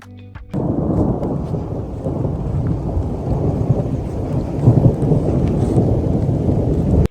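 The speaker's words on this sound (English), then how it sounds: "we had breakfast just before a thunderstorm." A deep, rolling thunder rumble bursts in and continues loudly for several seconds, with rain hissing steadily underneath, heard from a yurt in the Kyrgyz mountains.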